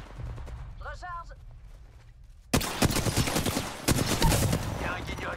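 Rapid bursts of gunfire from the video game Apex Legends erupt after a quieter stretch, loud and dense, with someone talking over them.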